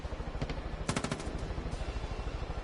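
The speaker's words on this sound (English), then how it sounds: "I'm being hit by, I believe it's a sniper" Gunfire in Far Cry 5 as a sniper fires on the player, a tight burst of sharp cracks over a steady rumbling game backdrop, loud and close with no talk.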